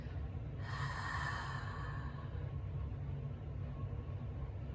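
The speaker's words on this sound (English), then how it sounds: "as you exhale, you want to fog up that glass. So you constrict your throat just a little bit." A slow exhale through a slightly constricted throat during a breathing exercise, a soft hissing breath lasting about a second and a half and then fading, over a steady low background rumble.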